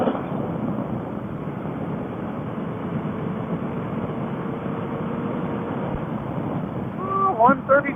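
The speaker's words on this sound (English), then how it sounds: "It's so windy though." Strong wind buffets the microphone with a constant low roar and rumble; a brief tonal sound and a few faint noises appear near the end.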